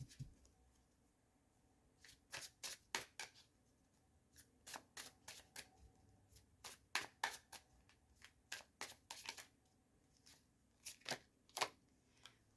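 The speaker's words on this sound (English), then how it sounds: "Being told to shuffle more, so let's do that." Tarot cards being shuffled: repeated bursts of crisp riffling and slapping in irregular clusters, close by, with no voices.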